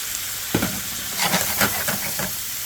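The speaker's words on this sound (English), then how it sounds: "Throw these green beans in there." Green beans tossed into a hot frying pan, a sudden hiss followed by a sustained sizzle with clustered crackles and stirring scrapes, close and fairly loud.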